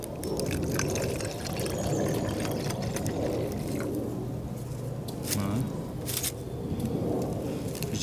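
Water pours and sloshes into a container at a campsite bivouac, a continuous splashing close by with a few brief clinks near the end.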